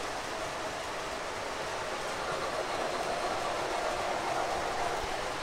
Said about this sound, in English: Upper track, we've got our Western Maryland VO1000 pulling a few Lionel cars.